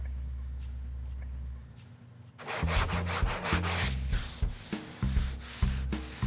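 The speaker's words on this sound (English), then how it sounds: "we're gonna go to a fresh piece of 80 because we want the sandpaper to do the work, not muscle" Steady back-and-forth scratching of 80 grit sandpaper worked by hand over car body filler on a classic car's bodywork, close and rhythmic, following a low hum.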